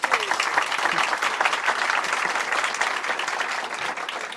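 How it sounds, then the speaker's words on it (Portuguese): Dense, steady applause from an audience at a tech talk on serverless microservices, loud and continuous for several seconds, with a few voices faintly underneath. "Salva de palmas pro Palestino, gente."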